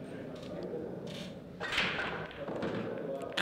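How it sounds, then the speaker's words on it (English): A hard break shot in an eight-ball pool match sends balls scattering with a sharp crack and clatter that stands out from the steady arena crowd murmur and commentary. "Sounds like a gun's gone off in the arena when Dan breaks"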